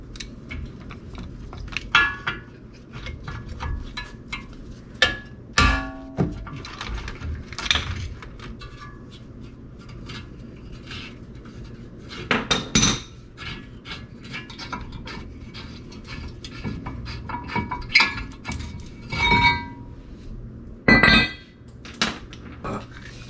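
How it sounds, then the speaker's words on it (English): Metal bolts and parts being removed from the front brakes of a 2007 Audi A4, with scattered clinks, ratcheting and clanks of the caliper bracket and rotor coming off, over a low steady background hum. "Take those off and then I can get the caliper mounting bracket off and then I can get the rotor off"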